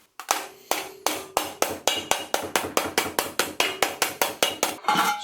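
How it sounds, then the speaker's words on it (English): Hammer blows on a bent metal panel edge of a Citroen BX during rust repair: about twenty sharp, ringing metallic strikes in a steady, fairly quick rhythm, close and loud, with no talking. "I'm gonna use a hammer to just make it a little bit more crisp."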